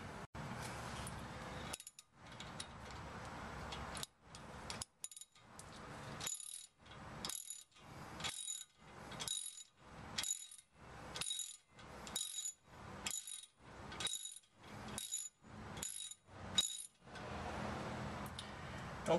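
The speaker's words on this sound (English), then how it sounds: "You're just going to keep working your bolts until they start and then snug those up." Small ratchet tightening brake caliper bolts on a 2011 VW GTI during a brake squeal repair: a steady series of about fourteen crisp clicking bursts in even rhythm, close and clear with no talking.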